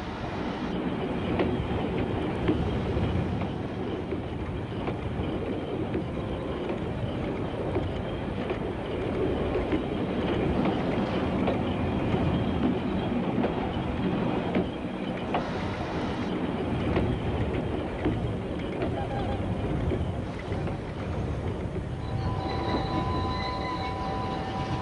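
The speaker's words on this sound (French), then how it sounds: "Le chasse-neige rotatif à vapeur fait la première passe pour creuser une tranchée dans la neige." A steam rotary snowplough train ploughs through deep snow to cut a trench, producing a continuous heavy rumble with rattling, clanking and occasional squeals from the wheels, steady and fairly close throughout.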